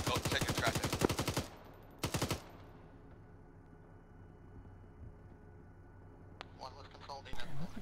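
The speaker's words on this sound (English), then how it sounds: "there's friendly gunfire going towards this guy" Friendly gunfire in the military game Arma: a rapid burst of automatic shots, then a second short burst, followed by quieter ambience and faint radio-like sounds near the end.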